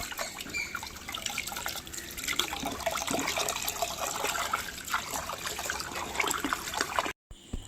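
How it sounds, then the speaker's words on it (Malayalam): Water runs steadily from a tap into soapstone vessels being filled for washing, a continuous close trickling splash lasting several seconds with no voices, then cutting off abruptly near the end. "അപ്പോൾ എല്ലാ പാത്രത്തിലും ഞാൻ വെള്ളം നിറച്ച് വെക്കുകയാണ്."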